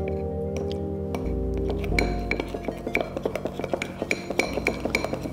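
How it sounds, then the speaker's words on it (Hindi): A spoon clinks rapidly against a small bowl or glass while barley flour and kashgari safeda are stirred together, producing a close series of bright taps that quicken into a steady rhythm, with a low hum underneath. "इसे अच्छे तरीके से मिक्स कर लें।"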